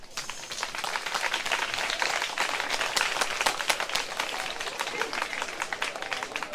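An audience at a school-supplies donation ceremony claps steadily in dense, sustained applause, fairly faint and even throughout, with some voices mixed in.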